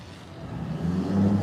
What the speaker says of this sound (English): This is a loud white truck right now.